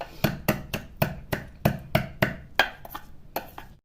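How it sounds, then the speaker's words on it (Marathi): Green chilies and garlic pounded for Maharashtrian thecha, about a dozen sharp, evenly spaced thuds close up, each blow crisp and dry with brief gaps between them. "एक दोन मिनिटातच हे असा ठेचा तयार होतो मिरचीचा आणि लसणाचा"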